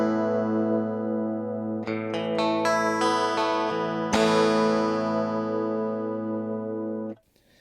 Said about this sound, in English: The chorus settings, like I said, the chorus knob's broken off.